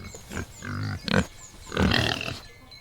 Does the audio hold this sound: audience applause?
no